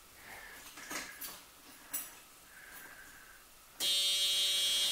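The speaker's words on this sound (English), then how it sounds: "Annoying buzzers." Faint clicks and rustles, then a loud, steady electronic warning buzzer in a 1976 Corvette C3 suddenly starts as the key turns and keeps sounding.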